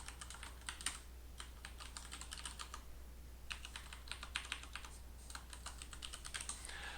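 Quiet, close keyboard typing in quick bursts separated by short pauses, as an account email and password are entered, with a low steady hum underneath.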